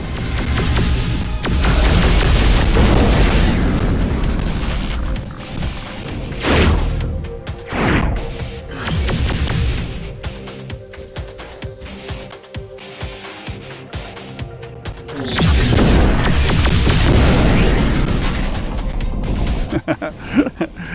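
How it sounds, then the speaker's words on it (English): Loud booming blasts from the VR retro shooter Overload roll out at the start and again near the end, with sharper crashes and thuds in between over a low rumble. "those explosions are so awesome, man"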